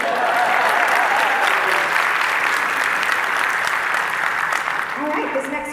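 A panel audience at a fan convention breaks into sustained, dense applause, loud and steady throughout with only a slight easing near the end.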